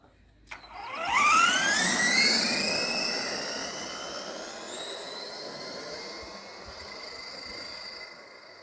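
A Kyosho DMT RC car motor, running at about 30% throttle with one ballooning tyre, bursts into a sharp rising electric whine that peaks quickly, then settles into a steady high hum as the car pulls away.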